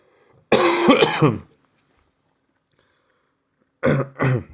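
A person coughs harshly a few times, then after a long silence gives two more rough coughs, close and loud.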